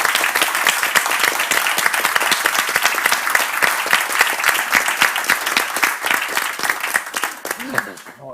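A conference audience at the Iberosphere summit claps loudly and continuously for Mike González, dense applause that tapers off near the end with voices faintly underneath.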